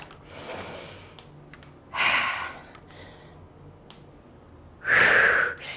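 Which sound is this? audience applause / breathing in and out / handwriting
breathing in and out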